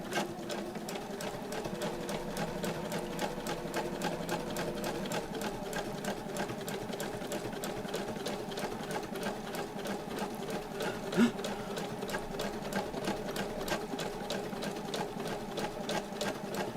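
Sewing machine stitching at a steady, fairly slow pace, its rapid mechanical ticking running evenly throughout at close range.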